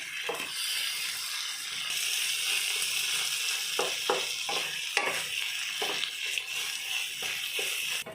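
Potatoes frying on a medium gas flame for Odia aloo chatani, a steady close sizzle with occasional scraping and stirring clicks throughout, no voices.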